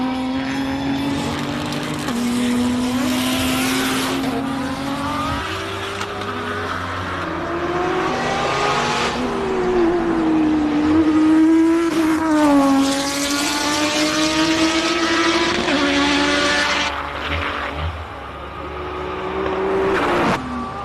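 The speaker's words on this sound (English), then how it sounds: "S4 sounds fantastic. And it's super fast." An Audi S4 race car at the Simola hillclimb accelerates hard and loud, its engine climbing through gears with rising and falling pitch across repeated upshifts, dominating throughout without any voices.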